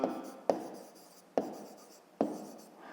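A pen writes out a fifth-grade math exercise on angles, heard close and quiet as four distinct strokes, each beginning with a sharp tap on the paper and trailing off into a soft scratch.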